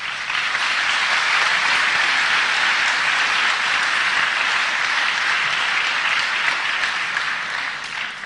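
Sustained applause from an audience at a speech about New Zealand standing up to America, a dense, loud, steady wash of clapping over about eight seconds that fades slightly at the end.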